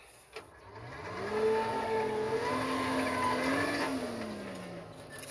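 A blower on a 1918 Garford, loaded with coal, runs with a whining tone that rises and falls in pitch over several seconds, heard close and moderately loud against a low background hum.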